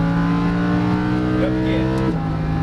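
A Lamborghini Huracan LP610-4 on a racetrack: the engine drones loudly and steadily under acceleration, then its pitch drops sharply at an upshift, heard close and continuous.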